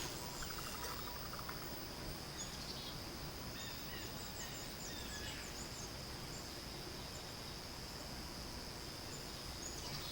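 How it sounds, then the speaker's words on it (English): Birds call in the morning outdoors, with assorted faint chirps over a steady, dense background of insect-like trilling and noise. "I recorded some bird calls here. I'll play those here."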